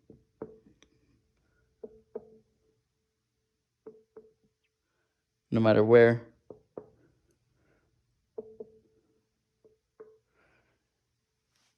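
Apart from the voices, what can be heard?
knocking on Stratocaster electric guitar body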